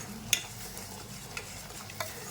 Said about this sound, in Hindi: खाली मटर और नमक के साथ में इसे भून रहे हैं हम